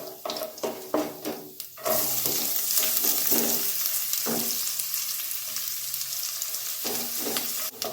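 Chopped onion and green chillies hit hot oil in a pan while making beetroot upma, bursting into a loud, continuous sizzle after a few sharp stirring clatters, with scraping stirs breaking through the frying.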